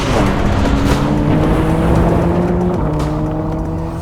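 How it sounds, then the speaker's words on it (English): BMW 1 Series M Coupe (1M), a small wide coupe, lapping a race track, its engine droning loudly and steadily with shifting pitch as it accelerates and changes gear, close and continuous throughout. "This is the BMW 1 Series M Coupe, the 1M."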